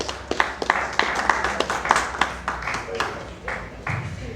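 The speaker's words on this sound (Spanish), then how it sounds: "Un fuerte aplauso, bienvenida." Audience applause at a talk on sustainable agri-food supply chains, a run of individual claps from a modest crowd, fairly close and steady, tapering off at the end.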